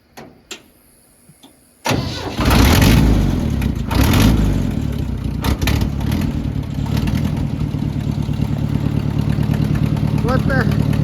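Oliver 504 tractor engine with an exhaust leak cranking, catching and roaring to life after a few quiet clicks, then settling into a loud, rough, uneven idle with a ragged chuffing edge, voices faint underneath.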